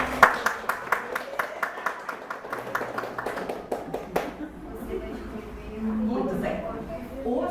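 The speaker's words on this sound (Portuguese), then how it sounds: "uma salva de palmas para vocês" Audience claps at a Portuguese-language church talk, with distinct rhythmic claps at first that thin out and fade, followed by a voice speaking and a soft murmur.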